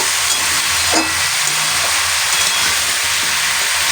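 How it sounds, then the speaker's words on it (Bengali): Bottle gourd and lentil dal sautéing in a pan gives a steady, loud broadband hiss and sizzle that runs the whole time, with no voices over it. "এইভাবে সুন্দর করে একটু কষিয়ে নেব,"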